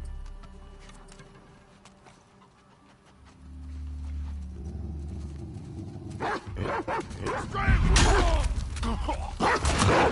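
A dog barking in the video game The Last of Us Part II, a rapid run of loud, close barks that builds over the last several seconds above a low, rumbling game background.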